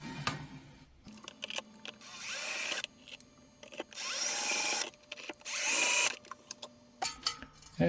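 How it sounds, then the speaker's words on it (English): A power drill bores holes for light fixture standoffs during an LED panel upgrade, three sustained whirring runs of a few seconds each, separated by handling clicks and rattles, close and clear. "Now I will drill them"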